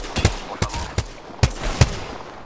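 Gunfire in Apex Legends, five or six punchy shots fired at uneven intervals, close and loud, with no voices over them.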